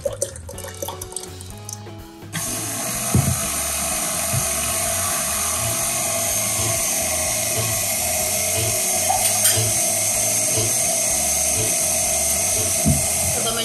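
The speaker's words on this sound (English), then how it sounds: "So the machine is gonna go for about 20 minutes and do its thing and get creamy." A kitchen ice cream maker churns homemade blueberry ice cream, giving a steady, continuous motor whir with a faint rhythmic ratcheting. It runs alone at close range after a brief quieter start, with no talk over it.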